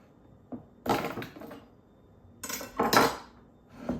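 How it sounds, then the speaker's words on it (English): Softened butter and sugar creamed in a bowl, heard as a few scattered scraping and clinking utensil strokes against the bowl, moderately loud with quiet gaps between them and no talking. "we're going to start creaming our butter and sugar"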